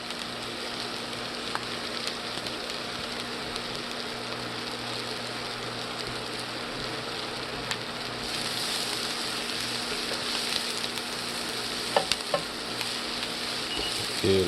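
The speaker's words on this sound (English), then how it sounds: "grilling it up real nice" Seasoned turkey breast, dusted with pepper, garlic powder and onion powder, sizzles steadily in a hot pan, a constant close crackling hiss with faint pops, no voices.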